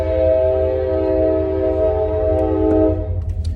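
A train passes close by, sounding a long steady horn-like tone over a low rumbling drone of the cars, loud and continuous before tailing off.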